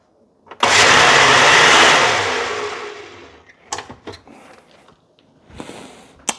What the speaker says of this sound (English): Let me blend this up right quick.